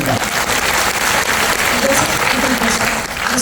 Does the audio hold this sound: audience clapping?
yes